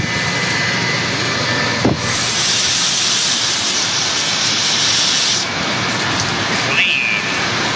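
Steady, loud hissing water spray rinsing thick greasy grime off a pump part, running almost continuously with a brief dip partway through and a slight shift in tone near the end.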